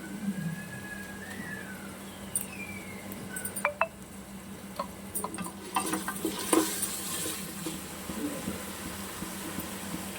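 Onions with ginger garlic paste sauté quietly in a pan, with a soft sizzle under scattered spoon scrapes and clinks against the metal.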